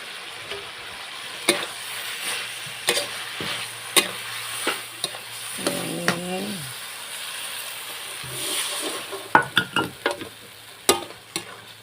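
Shrimp stir-fried with holy basil in a pan sizzles and hisses continuously up close, punctuated by sharp spatula clacks and scrapes against the metal that come in irregular bursts, with a quieter stretch midway.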